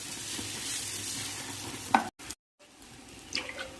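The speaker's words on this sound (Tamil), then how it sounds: "ரவா தோசை மாதிரி தண்ணியாக ஊற்றிக்கலாம்." Thin bottle gourd dosa batter poured onto a hot tawa, giving a steady close hiss and sizzle that cuts out briefly, then returns quieter.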